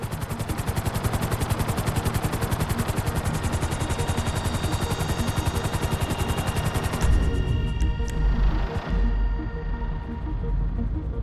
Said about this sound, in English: I need you to hold the chopper above it while I take a look